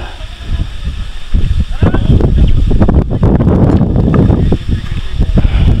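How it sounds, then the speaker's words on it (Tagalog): Strong seaside wind on a trip to Mt. Pico de Loro buffets the microphone in loud rumbling gusts that swell and ease, with people talking faintly underneath. "Lakas ng hangin."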